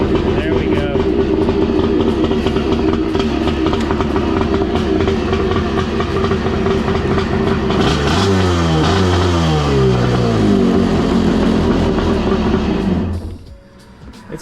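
A vintage jet ski engine runs loudly and steadily, its pitch climbing and dropping as it revs up partway through, then cutting off abruptly near the end.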